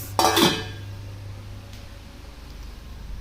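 A metal lid is set onto a pot of dal, one bright clattering clank that rings briefly before fading into quiet kitchen room noise.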